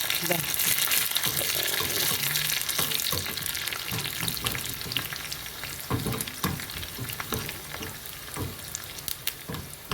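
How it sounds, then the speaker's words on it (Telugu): Curry leaves fry in a pan with a dense, crackling sizzle, while frequent scrapes and knocks mark stirring, loud at first and easing slightly toward the end. "కరివేపాకు కూడా వేసి బాగా కలపాలండి"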